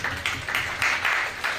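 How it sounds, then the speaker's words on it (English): An audience claps for three election candidates on stage at a student society event, with a moderate round of applause coming in rhythmic, overlapping waves that is neither dense nor very loud. "Let's give the three candidates here on stage a round of applause."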